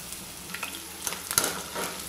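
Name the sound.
soya chunks deep frying in refined oil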